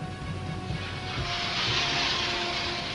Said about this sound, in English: The F-6 aircraft is making its shooting stance